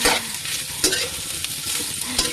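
Lemongrass and ham sautéing in a pan, a steady close sizzle broken by a few sharp stirring scrapes, with no talk.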